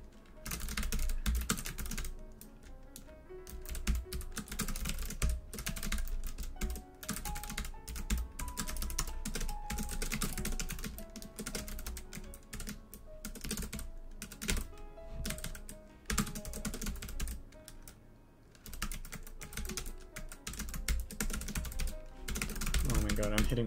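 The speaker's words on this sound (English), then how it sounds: "Man, my typing today is not on point." Steady computer-keyboard typing runs almost the whole stretch, dense clusters of key clicks with brief pauses, close and fairly loud, with a musical bed or hum underneath and occasional faint vocal sounds.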